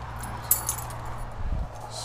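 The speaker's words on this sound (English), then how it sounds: "Hand me my keys." Keys jingle faintly in a couple of quick metallic bursts, set against a low steady hum while work is done on a 1994 Subaru Legacy Turbo.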